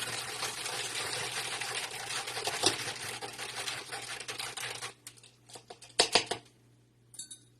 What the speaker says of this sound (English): And then I'm going to mix it up. I use my little mini whipper to mix mine up.